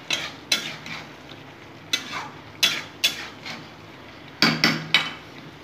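Prawns are stirred in a thick masala in a pan, with sharp, repeated spatula knocks and scrapes every second or so over a low background sizzle, close and without talk.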